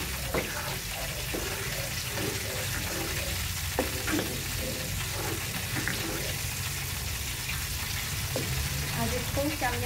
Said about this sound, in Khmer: ខ្ញុំឆាគ្រឿងមីនឹងឲ្យក្តៅ